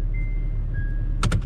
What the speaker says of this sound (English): if these mirrors would turn. There we go.